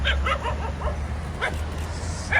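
A dog barks and yips several times in quick succession nearby at an eco village near Kasol, followed by a pause and a couple more sharp yaps over a low background hum.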